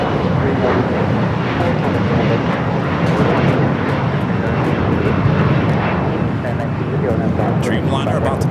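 A Boeing 787 Dreamliner taxis at Los Angeles International Airport, its jet engines producing a loud, steady roar with a broad rushing hiss that holds close and even throughout.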